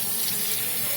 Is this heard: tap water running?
yes